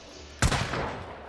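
A single loud gunshot cracks in the Hunt: Showdown video game, rising sharply out of quiet ambience and trailing off in a short, echoing decay.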